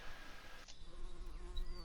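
Honey bees hum around a hive being harvested for honey, a fairly quiet, continuous buzz with a brief sharp knock partway through and individual bees whining past.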